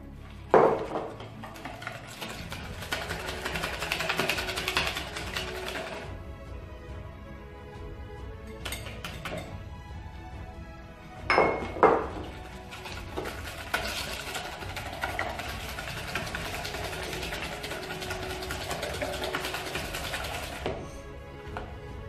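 Liquid vanilla and icing sugar being mixed into an icing in a bowl, heard as soft scraping and stirring with light clinks of utensil against the bowl, a few sharper knocks, fairly quiet and close, with no talk.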